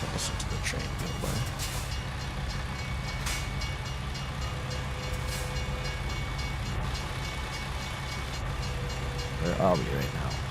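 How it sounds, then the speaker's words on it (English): A train rumbles past at a steady level in the American Truck Simulator driving game, a continuous low rolling roar with faint clacking, while a person talks briefly over it. "Listen to the train go by"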